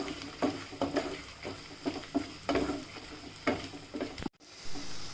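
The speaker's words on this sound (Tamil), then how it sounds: "வெங்காயம் இன்னும் கொஞ்சம் வதங்கட்டும்." Onions sautéing with dried red chillies in a pan for Chettinad chicken gravy, stirred with repeated utensil scrapes over a steady low sizzle, close and moderately loud.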